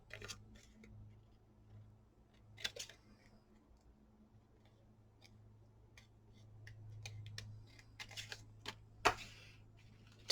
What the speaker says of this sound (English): Just kind of carefully, without cutting the envelope open, just trimming them down.